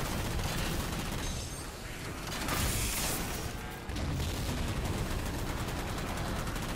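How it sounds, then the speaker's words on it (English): A rocket launcher fires in the Halo 4 campaign on Mythic difficulty, a dense, loud blast and rushing swell over constant battle noise, with a brief dip before the roar resumes. "Using my rocket."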